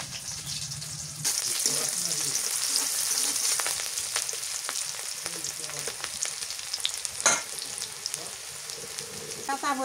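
Onion hits hot oil in a pan and crackles into a loud, continuous sizzle with scattered pops and occasional stirring, close and steady throughout.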